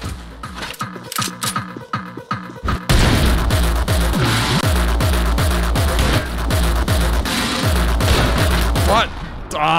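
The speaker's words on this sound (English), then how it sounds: "What use was that explosion?" Video game explosions and rapid gunfire make a dense barrage of booms and crackling bursts. It starts sparse for a few seconds, then turns into continuous loud, rhythmic blasts close up.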